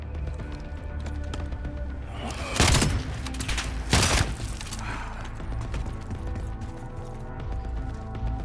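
Gunfire in the Black Ops 7 campaign, with a dense mechanical rattle and two loud bursts of shots over a busy battle soundscape.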